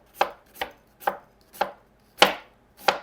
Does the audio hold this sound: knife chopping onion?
yes